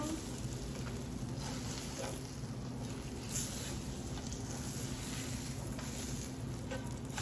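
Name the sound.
egg in a hole frying in a pan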